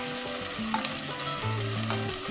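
Beef cooked with whole garlic cloves, chili powder, coriander and whole and ground garam masala sizzles steadily in a pan, with a few scrapes and clinks as it is stirred.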